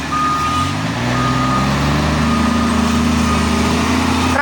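Truck reversing during road repair works, its loud high back-up beeper repeating steadily over a rumbling idling diesel engine, close by and continuous, with no talk.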